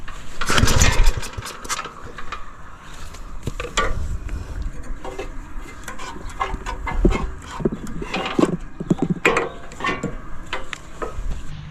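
A small, old overheating engine sputters and clatters irregularly, with sharp knocks and metallic bangs over a rough rumbling drone, never settling into a steady idle.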